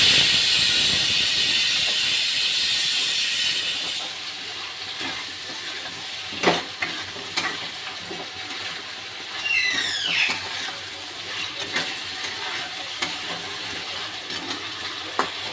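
Ginger garlic paste fries in a pan for chicken kosha, starting with a loud steady sizzle that settles into quieter hissing, broken by occasional scraping stirs and clacks of a utensil.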